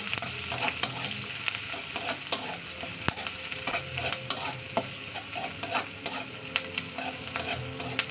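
Chopped onion fries in hot mustard oil, giving a close, steady sizzle. A spatula stirs and clacks against the pan in irregular strokes.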